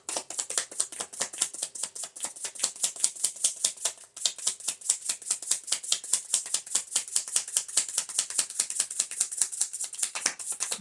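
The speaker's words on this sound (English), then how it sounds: "I've never had that happen where I've shuffled through it twice" Tarot cards are shuffled in a steady run of quick papery riffles and slaps, repeating rhythmically for about ten seconds, close and crisp, with a brief pause midway and no talking.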